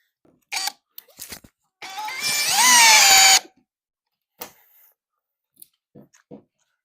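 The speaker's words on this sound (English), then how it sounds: "So now we're drilling an OSB panel, which is way harder than the plasterboard" A power drill whirs for about a second and a half, its pitch rising as it bores into an OSB panel, with scattered clicks and knocks before and after.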